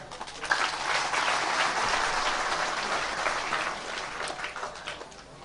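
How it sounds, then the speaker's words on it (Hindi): An audience at a Hindu religious festival claps steadily in a dense, moderately loud wash that carries on at an even level before thinning slightly toward the end. "तालियां"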